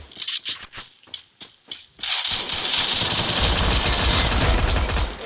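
Video game gunfire in Free Fire: a handful of sharp separate shots ring out first, then a sustained rattle of rapid automatic fire with a rumbling low undertone, loud and close.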